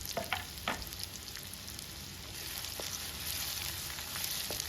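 Finely chopped onions fry over a medium flame in oil in a kadhai for dhaba-style palak paneer, a soft continuous sizzle with a few brief stirring clicks near the start, faint and steady.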